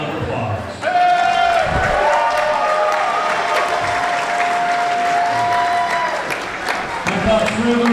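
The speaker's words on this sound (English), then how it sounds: "Please give the RWA roster a round of applause" A crowd applauds loudly and continuously for the RWA wrestling roster at a live wrestling event, dense clapping filling the hall, with a sustained tone and brief voices mixed in.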